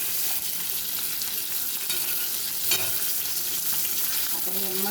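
Fish with mint stir-fried in a pan, a close steady sizzle with scraping and stirring sounds throughout, one sharper clatter midway, and no talk.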